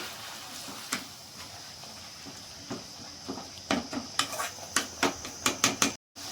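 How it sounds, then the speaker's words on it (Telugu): Gongura leaves are stirred in a pan over medium heat as a utensil scrapes and knocks against the metal. Sparse taps speed up into a quick run of rhythmic clanks near the end, over a faint background hiss. "గోంగూరనైతే బాగా కలబెట్టుకొని బాగా వాడ్చుకోవాలండి"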